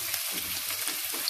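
Onion and cumin frying in hot oil, a continuous close sizzle and crackle with a steady hiss and no voices.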